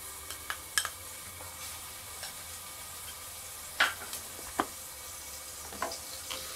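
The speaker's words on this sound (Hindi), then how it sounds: "घी में मैंने थोड़ा सा शाही जीरा डाला है और अब इसमें जाएगा जिंजर गार्लिक पेस्ट बिल्कुल हाफ टी स्पून" Ginger garlic paste sizzles in hot ghee with royal cumin, a steady low frying hiss broken by a few sharp spoon clicks and stirs against the pan, with no voices.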